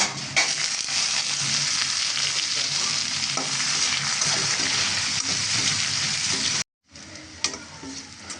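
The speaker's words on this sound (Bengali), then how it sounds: "এখন বাদাম, কিশমিশ, পেস্তা সব কিছু একসাথে ভেজে নেব" Steady, loud sizzling of nuts, raisins and pistachios frying in hot ghee, broken by a brief silent gap before the crackling resumes.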